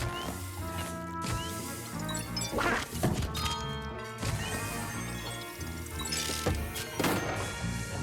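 Objects smashed and destroyed in the video game Luigi's Mansion 3 produce repeated thunks and crashing impacts over layered game music and effects, fairly loud, with no talking.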